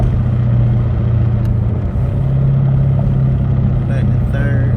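Lamborghini Urus SUV with a mid muffler delete pulling in 4th gear at low speed, a steady loud engine drone close up that holds throughout without pauses.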